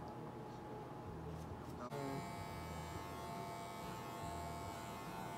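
Electric hair clippers fitted with a number two guard give a steady, close mechanical buzz that starts about two seconds in and runs unbroken to the end.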